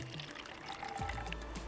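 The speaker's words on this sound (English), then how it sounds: "So I'm going to put in a little bit of water," Water from a container pours into a glass, a short steady trickling stream that starts partway through and runs on quietly, close by with no talking.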